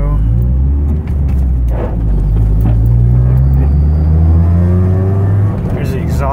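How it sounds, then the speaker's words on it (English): Exhaust of a slammed Honda Accord CB7 on a main road, a steady low rumble rising and falling as the engine revs and shifts early, loud and close, with someone talking over it. "There's the exhaust,"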